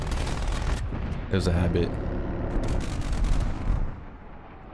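Gunfire in the first-person shooter Black Ops Cold War, bursts of shots with a dense burst in the middle, mixed with game effects and an excited player talking over it.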